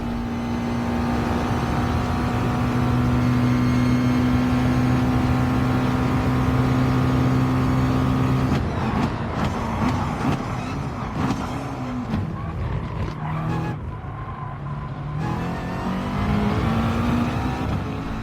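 Race cars lapping Monza in Gran Turismo Sport, a steady loud engine drone with sustained tones for several seconds, then a busier stretch of shifting revs and overlapping engine notes from cars battling for position.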